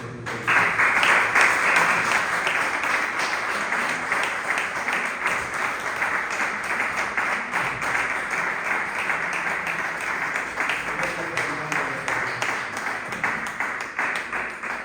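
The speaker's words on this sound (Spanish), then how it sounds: "Dale un fuerte aplauso." A church congregation breaks into sustained applause, a dense wash of many hands clapping steadily for about fifteen seconds at moderate loudness, with a few voices mixed into the crowd.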